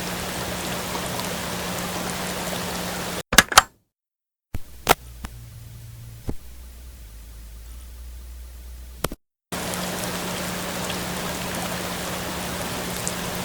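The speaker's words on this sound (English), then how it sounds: "The rain is still pretty steady." Steady rain falls outside a porch at night, a constant close hiss interrupted by a few abrupt clicks and silent gaps, with a low hum running through the recording.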